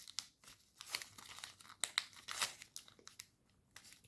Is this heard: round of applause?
no